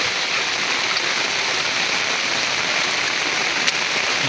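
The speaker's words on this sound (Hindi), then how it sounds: "बरसात हो रही है" Steady rain pours down in a Himalayan mountain village, an even, dense hiss of drops on surfaces with water running, unbroken and fairly loud throughout with no talking.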